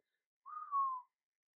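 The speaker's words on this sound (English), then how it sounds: "one of the men whistled." A man gives a single short whistle, clean and tonal, rising slightly and then gliding down over about half a second, alone in silence.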